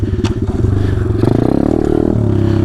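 A pit bike with a straight pipe rides across grass, its loud, close engine buzzing and revving in a rapid throbbing pulse with some clatter, and no talk.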